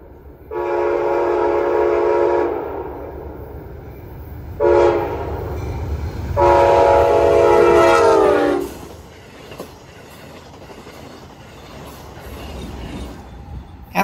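An Amtrak train passes on a New England line near Wells, Maine, sounding three loud horn blasts, long, short, then long, over the rumble and clatter of the cars going by.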